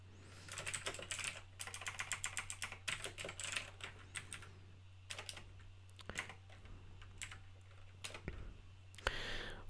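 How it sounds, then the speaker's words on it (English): Rapid typing on a mechanical keyboard, close and crisp, with bursts of clacking keystrokes separated by short pauses, heard alone in a quiet room. "Now, I'm just gonna quickly type this in."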